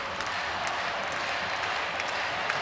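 Home crowd at an ice hockey cup final roars loudly and steadily with cheering and applause, a dense continuous wall of sound.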